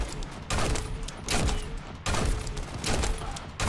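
Gunfire in the shooter game The First Descendant: rapid, loud bursts of shots in repeated volleys separated by brief pauses, with no talk.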